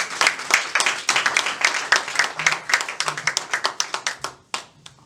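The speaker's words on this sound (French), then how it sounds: "Nous l'accueillons avec des acclamations pour le Seigneur" A church congregation at a full gospel midweek service claps and cheers to welcome a speaker, brisk close hand clapping in a quick irregular rhythm that thins out and stops near the end.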